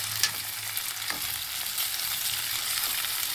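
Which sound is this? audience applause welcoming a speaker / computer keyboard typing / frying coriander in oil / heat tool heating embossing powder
frying coriander in oil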